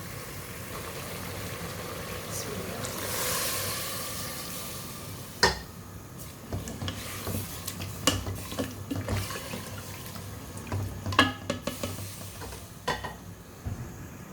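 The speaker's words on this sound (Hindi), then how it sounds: "और अब इसमें पानी डालूंगी" Water poured into a pot of Bihari-spiced curry with a soft hissing rush, followed by scattered clinks and scraping of a spoon stirring against the pot, close and quiet with no talking.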